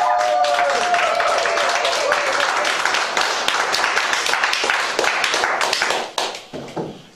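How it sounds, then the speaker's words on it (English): Audience applause at a poetry book launch, dense broadband clapping that runs steadily for about six seconds, then thins into scattered claps and fades out. "Can we have another round of applause,"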